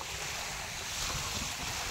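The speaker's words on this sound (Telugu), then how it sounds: "గాలి బాగా వస్తుంది కాబట్టి దిగుతలేరు" Strong wind blowing over the open sea during a fishing trip, a steady broadband roar with wave wash that stays loud and unbroken throughout.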